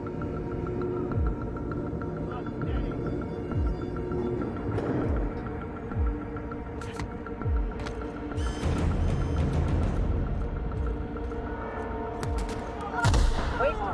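Rapid bursts of gunfire and booming shots in the sci-fi video game The Outer Worlds, layered over droning game music and ambience, with loud impacts clustered near the end.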